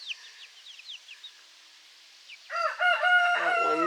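A young rooster with a growing comb crows loudly and close, a full harmonic call filling the second half, after a stretch of soft, high chick peeps.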